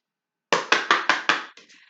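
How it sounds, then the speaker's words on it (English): A tarot card deck being shuffled close up after a moment of silence: five crisp riffling bursts in quick succession, then two softer trailing flutters. "please turn down the volume so I can shuffle the deck."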